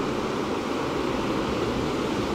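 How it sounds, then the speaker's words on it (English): A steady, deep wash of synthetic ocean surf noise from a macOS background noise app, dense and continuous, with a low rumbling roll and no voices. "It goes up and down the ocean."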